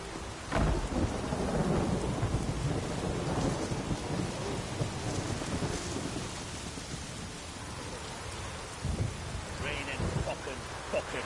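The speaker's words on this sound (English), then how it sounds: "Raining fucking buckets." Heavy rain pours down with rolling thunder in The Witcher video game, a steady dense roar of rainfall with deep rumbling swells throughout.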